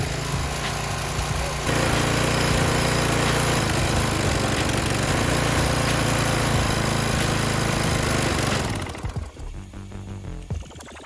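A small engine runs out in the rain, a steady buzzing drone with a slightly rough, sizzling edge that holds for several seconds, then sputters and dies down toward the end.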